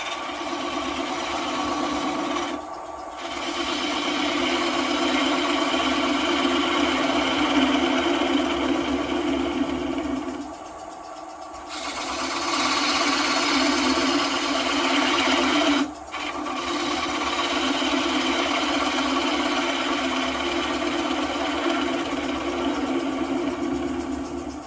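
A wood lathe spins a spalted, winged beech or sycamore bowl with a steady loud hum and rasping tool contact, cutting out briefly three times before resuming.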